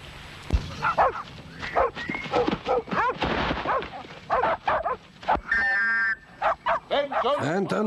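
Dogs in a 1964 thriller film scene bark repeatedly in quick, uneven bursts, mixed with shouting human voices close by.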